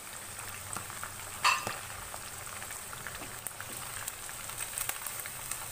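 Chicken wings frying golden brown in hot oil, a steady fine crackling bubble throughout with one louder pop or clink near the start, close and unbroken.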